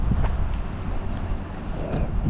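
Wind buffets the microphone on a drifting fishing boat on the water in the rain, a steady loud low rumble with gusty rushing that continues throughout the clip, without speech.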